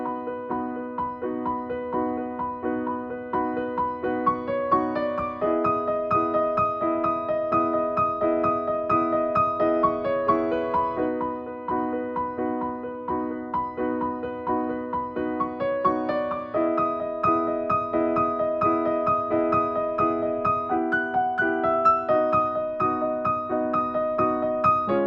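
Solo piano playing a gentle instrumental, a clear, close melody over sustained chords repeating a slow phrase, with no voices.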